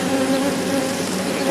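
A honeybee colony buzzes steadily and loudly up close during a hive rescue, a dense continuous drone of many bees with no pauses or talking.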